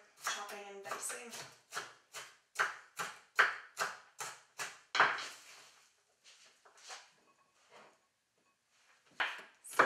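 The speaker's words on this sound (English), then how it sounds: "And I'm just going to dice up the onion." A knife dices an onion on a cutting board in a home kitchen, a fast run of sharp, close chops in steady rhythm, then sparser, quieter cuts and a few final knocks.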